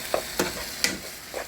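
Sofrito frying in a pan for rice with crab, a close steady sizzle punctuated by four quick scraping stirs.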